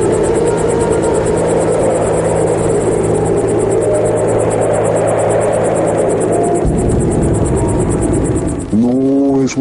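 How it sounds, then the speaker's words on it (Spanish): Helicopter flying with passengers aboard, a loud continuous engine drone and rotor throb heard close from inside, steady throughout and shifting in tone near the end. "era su primer paseo en helicóptero"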